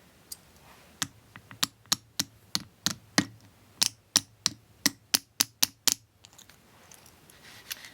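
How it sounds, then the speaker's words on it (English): A small hammer taps the edge of a silver squash blossom jewelry piece, about eighteen sharp metallic taps in a fairly steady rhythm, close and clear, then stopping. "Now I'm gonna kind of tip this inside here a little bit and start tapping on the edge."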